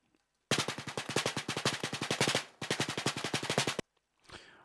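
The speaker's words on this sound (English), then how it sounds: "here we have a snare ghost tracks, which is a very vital part of this track's drum sound" Quick, evenly spaced snare ghost notes roll in two fast bursts with a short pause between them, crisp and close, followed by a faint tail.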